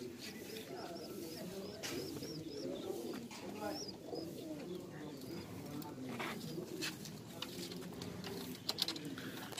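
Pet pigeons coo softly inside an iron cage, a faint, steady run of low murmuring coos with occasional chirps, while people talk quietly nearby.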